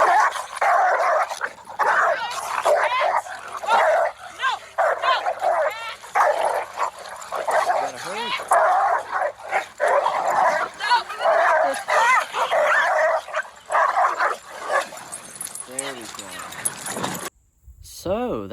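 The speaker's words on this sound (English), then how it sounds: "that right there is a prime example of a dog fight happening in real life" Black lab dogs fighting at a dog park, with dense, frantic barking, snarling and yelping overlapping continuously, loud and close, with people shouting, before a sudden cut near the end.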